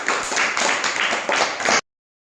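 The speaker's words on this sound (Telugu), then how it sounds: "క్లాప్స్ కొట్టండి" A group of young schoolchildren clapping together in a classroom, a dense patter of rapid claps that comes in uneven bursts for under two seconds and then cuts off abruptly.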